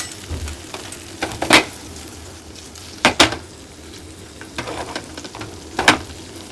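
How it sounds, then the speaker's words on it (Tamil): Paneer cubes fry in a pan toward golden brown, with a soft constant sizzle broken by several sharp scraping stirs and clinks of a utensil against the pan at irregular intervals. "அதில் பன்னீர் க்யூப்ஸ் ஆட் பண்ணி நல்லா கோல்டன் ப்ரௌன் கலரில் வர வரைக்கும் ஃப்ரை பண்ணி எடுத்துக்கலாம்."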